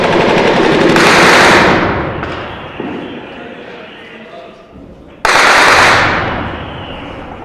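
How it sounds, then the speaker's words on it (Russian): Loud bursts of machine gun fire during street fighting in a private housing district of Jobar, Syria, one sustained burst at the start and another near the end, with a quieter rumbling stretch between. "Очередь из пулемета, и солдаты должны быстро отойти."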